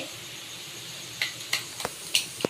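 Black cumin seeds hit hot mustard oil in a wok and give a soft, continuous sizzle. Several sharp pops and crackles break through near the end.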